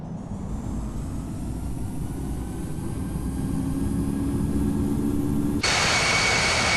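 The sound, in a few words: Airbus A320neo jet engines on takeoff in the Infinite Flight video game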